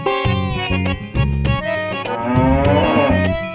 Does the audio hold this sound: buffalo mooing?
yes